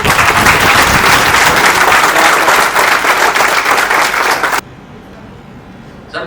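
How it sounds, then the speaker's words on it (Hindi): An institute conference audience bursts into loud, dense applause that holds strong for several seconds and then cuts off abruptly, leaving near quiet. "सबसे अनुरोध है कि तालियों की जोरदार।"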